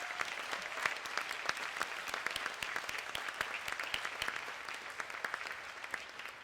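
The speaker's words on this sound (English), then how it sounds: "Please join me in a round of applause for Mr." Audience at the Gesu School gala gives a round of applause, a steady stream of crisp individual claps from a modest crowd, moderately close and unbroken for several seconds.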